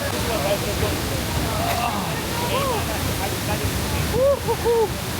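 Waterfall water in Ubud, Bali rushes as a steady broadband roar, with people talking over it close by.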